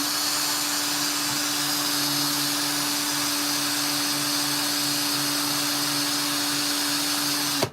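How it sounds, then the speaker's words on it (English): A power drill runs steadily while sanding a ring with 400-grit paper during shaping, giving a continuous close, loud whine with a constant tonal hum that holds for the whole stretch before cutting off abruptly at the end. "Right now we're making a lot of noise with the drill"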